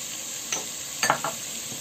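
Lamb pieces for harira soup sizzle in a pan under a steady frying hiss, with a few short scraping stirs near the end and no voices.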